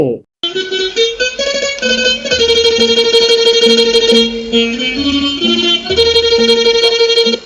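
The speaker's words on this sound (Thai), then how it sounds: "เสียงภาพที่สองนี้คือเสียงของจะเข้" A jakhe, the Thai floor zither, plays a melody of plucked, twangy notes with quick ornamented runs. It is close and clear, and sounds alone for several seconds.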